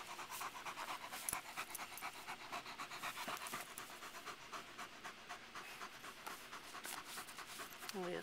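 A dog pants quietly at close range in a quick, steady rhythm of short breaths that continues throughout.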